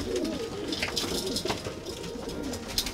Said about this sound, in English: Racing pigeon, just trying to get home.